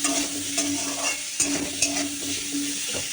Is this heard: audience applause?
no